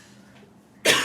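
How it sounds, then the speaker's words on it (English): A woman gives a single sharp cough, close and sudden, after a moment of near quiet. "I am the woman that coughs"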